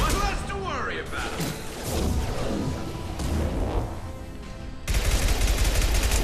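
Weapon fire in the Mass Effect 2 video game, dense bursts of shots and mechanical clatter layered with game effects and music, loud and continuous, with a sharper burst near the end.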